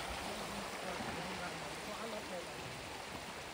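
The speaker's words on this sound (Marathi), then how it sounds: "मध्येच वाहणारं पाणी आहे." Flowing stream water running through thick woodland at a trekking campsite, a steady close rush and gurgle that holds evenly throughout.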